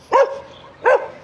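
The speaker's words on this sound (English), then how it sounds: "That's what you call a good guard dog." Two loud, close barks from a guard dog, spaced under a second apart, with a faint background hum between them.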